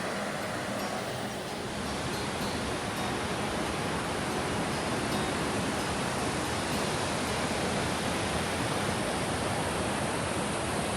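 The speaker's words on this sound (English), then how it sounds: "listening to the sound of the nature and river" A river rushes beside a mountain trail in the Wind River range, a steady, loud, broadband roar of flowing water that continues without a break.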